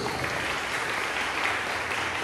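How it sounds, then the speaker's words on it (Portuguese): A congregation claps steadily throughout a church service, a dense and continuous wash of applause heard from within the room. "Aplauda Jesus."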